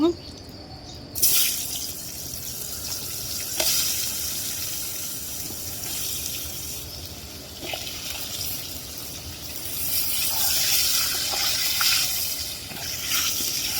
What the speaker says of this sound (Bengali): এই তেলে আমি আলু ভেজে নিব।